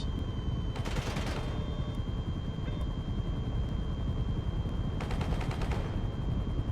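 Rapid turret gunfire in GTA 5, two dense bursts of automatic shots about a second long each, separated by a steady low vehicle rumble, loud and close with no talking.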